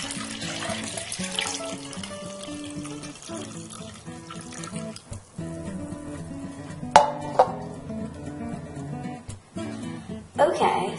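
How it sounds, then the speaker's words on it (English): Water poured from a bowl into a cup, uneven pouring and splashing broken by short pauses, with a few sharper clinks and splashes near the end. "I'm going to pour this into the cup to see how much I use"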